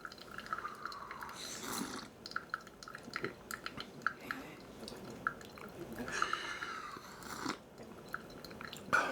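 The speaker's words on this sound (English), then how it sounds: "Let's go ahead and drink some coffee" Someone sips brewed coffee with soft slurps and mouth sounds, close and quiet, with faint clinks between the sips.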